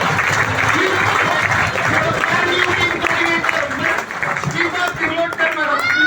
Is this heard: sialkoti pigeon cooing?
no